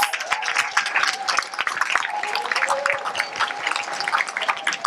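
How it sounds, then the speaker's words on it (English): An audience claps together in dense, steady applause for about five seconds, a lively crowd of hands with faint voices mixed underneath. "Give yourself a round of applause."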